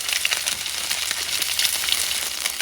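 Sea bass fillet sizzles in a hot pan over medium-high heat, a dense, crackling hiss of frying oil with constant small pops, close and steady throughout.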